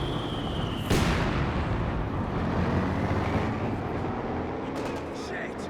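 A Panzerwerfer rocket artillery barrage in Company of Heroes 2 erupts with a sharp launch burst, then rumbles on as a dense, roaring wash of explosions that slowly fades.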